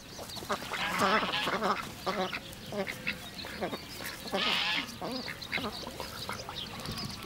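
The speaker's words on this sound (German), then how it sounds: "Rührend kümmert sich die Gänsemagd um ihr Federvieh." Geese and poultry in a Bulgarian village along the Danube, honking and quacking in repeated bursts, moderately close but faint, with outdoor background noise between calls.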